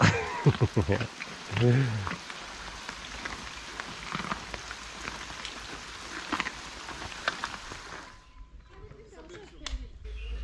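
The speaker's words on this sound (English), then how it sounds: "It is raining, so yeah, the rainy season has started" Rain falls steadily at a wildlife orphanage in Zimbabwe during the rainy season, a dense hiss with close drips and splashes. Voices and bumps come through under it early on, and the rain thins out near the end.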